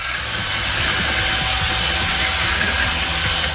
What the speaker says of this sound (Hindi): बड़े कंस्ट्रक्शन मिक्सर का उपयोग करके हम शक्कर को अंडे के पीले जर्द के साथ मिला लेंगे।